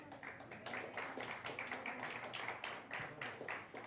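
A congregation claps for the Lord at a church service, a dense, steady run of many hands clapping in rhythm close by, with no talk over it.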